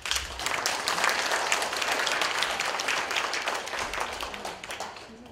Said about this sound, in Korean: 큰 박수로 따뜻하게 맞아주시기 바랍니다